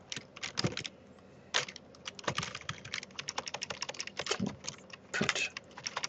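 Steady typing on a computer keyboard while building a web contact form, with quick irregular keystrokes and a few harder key presses, close and fairly quiet, and no speech.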